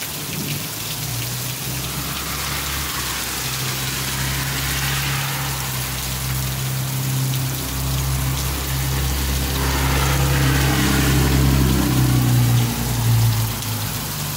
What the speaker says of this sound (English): I think the main part of the storm's over there.